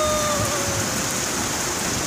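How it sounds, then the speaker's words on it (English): Heavy rain pouring steadily during a thunderstorm, a dense continuous hiss filling the air with no gaps, alone without voices. "Oh, look at the rain."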